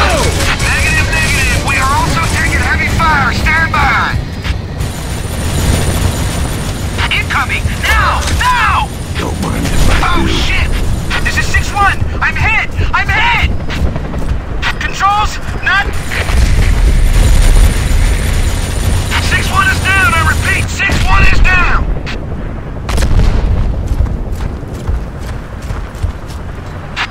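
Heavy gunfire and booming explosions from the game Gears of War keep up a dense, loud battle din throughout, with clattering mechanical bursts, while voices shout over the fighting.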